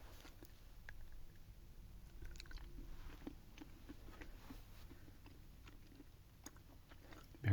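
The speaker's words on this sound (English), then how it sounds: "Very stiff to chew." Quiet, close chewing of a stiff, chewy candy, with soft repeated sticky bites and mouth clicks at an irregular pace and no talk.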